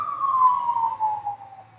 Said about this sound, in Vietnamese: xin lỗi mọi người, có xe công an.